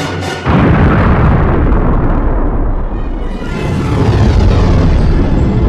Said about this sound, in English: This was the best damn CGI explosion I ever seen.